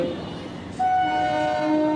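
A train horn sounds a long, steady blast over the rumble of a train pulling into Subhashgram railway station, loud and close, with no one speaking.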